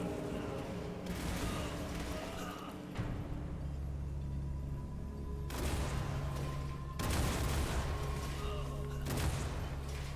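Bombard spell explosions in the War for the Overworld strategy game land as a string of heavy, booming blasts with rumbling low thuds and crackling bursts, several overlapping impacts spaced a few seconds apart over a continuous battle din.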